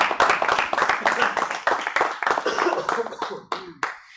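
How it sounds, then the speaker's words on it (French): Audience applause at an awards ceremony honoring players of a sports season: a dense burst of clapping from many hands that thins out toward the end, with a few last isolated claps. "Merci Stan, on peut l'applaudir encore une fois."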